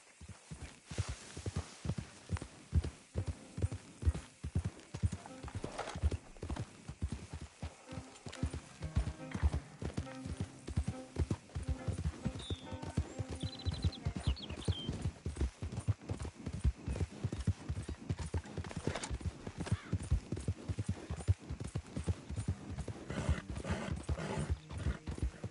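Rapid, steady hoofbeats clip-clop throughout as a horse is ridden in the video game Red Dead Redemption 2, with game music and ambient layers underneath and a brief whinny-like sound.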